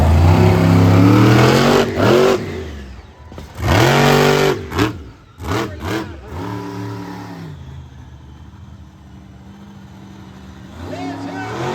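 A monster truck engine revs hard at an arena show, surging in loud roaring bursts with falling and rising pitch, then settling to a lower idle rumble before picking up again at the end.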